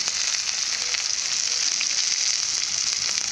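Bitter gourd pieces frying in hot oil give a loud, steady, close sizzle that carries through the whole stretch without pause.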